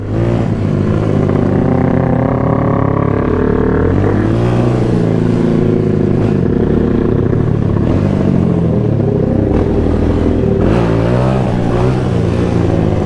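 A motorcycle engine revs hard and continuously during a holiday ride out to Helshire Beach, Jamaica. The loud, rough drone rises and falls through repeated throttle surges, up close with no voices.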